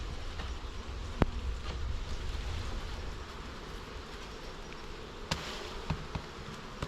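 Bee swarm being moved into a hive, a dense, steady buzzing drone heard close, with occasional sharp knocks and taps over it.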